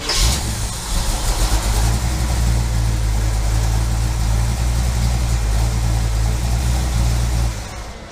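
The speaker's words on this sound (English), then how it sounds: "It's running really good right now. It's idling nice" A car engine idling with a newly installed carburetor, a steady loud low rumble running smoothly and evenly throughout, close up with no talking.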